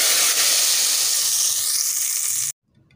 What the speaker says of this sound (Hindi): दाल पे तड़का लगाते हैं